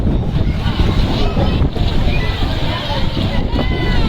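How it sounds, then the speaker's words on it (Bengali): Heavy high-tide surf at Old Digha crashing and washing over the beach road, a loud continuous roar of water with strong wind buffeting the microphone and voices talking over it. "প্রচুর পর্যটক রয়েছে, পর্যটকেরাও বাড়তি আনন্দ উপভোগ করছে এই জোয়ার"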